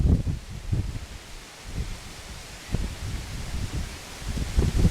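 Wind gusting outdoors across the open ground of Bosworth Battlefield, buffeting the microphone in low rumbling bursts that swell and fade, with no speech.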